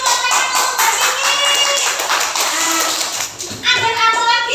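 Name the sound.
children clapping in classroom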